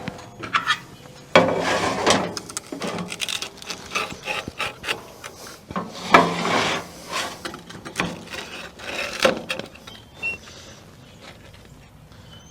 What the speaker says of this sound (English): I'm going to see if we can take and cut this